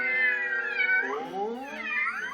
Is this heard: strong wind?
no